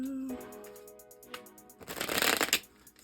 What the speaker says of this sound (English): I want to pull this next row of tarot